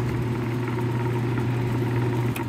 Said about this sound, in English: Let's see if I can get the compressor to fire.